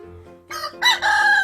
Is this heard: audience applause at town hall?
no